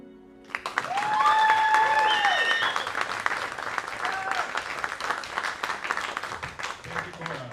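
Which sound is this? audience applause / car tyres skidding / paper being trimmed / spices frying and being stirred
audience applause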